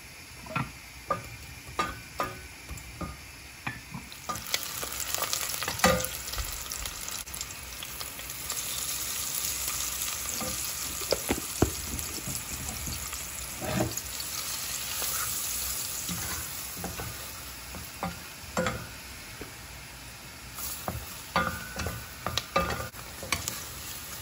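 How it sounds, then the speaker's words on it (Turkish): Food sizzles steadily in butter in a hot pan while a utensil scrapes and taps, stirring in irregular clicks; the frying hiss swells louder midway. "Bunları kavuracağım."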